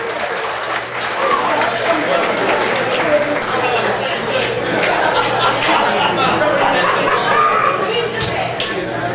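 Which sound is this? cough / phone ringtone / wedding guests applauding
wedding guests applauding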